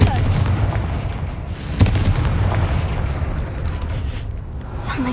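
A Confringo fire-spell blast in Hogwarts Legacy, with a sharp burst near the two-second mark set against a dense, rumbling wash of game ambience that runs through the whole clip.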